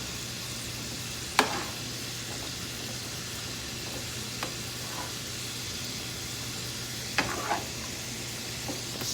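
Coney sauce stirred in a hot pot, a steady sizzling hiss broken by a few sharp scrapes and clinks of the utensil against the pot.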